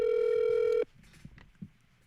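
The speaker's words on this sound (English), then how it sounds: "I'm calling up Bob Botanic right now." A single steady ringing tone from a telephone call lasts under a second, then cuts off into near silence with faint clicks.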